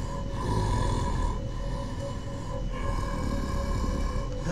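Steady, rhythmic snoring plays in the horror video game Lights Off. Slow droning breaths with a low, buzzy tone swell and fade about once every second or so, moderately loud against a faint background hum.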